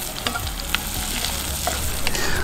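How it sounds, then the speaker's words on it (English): Onions and garlic browning in a pan over an outdoor campfire, giving a steady, close, dense sizzle with occasional small pops and spatters throughout. "Just browning up some onions and some garlic."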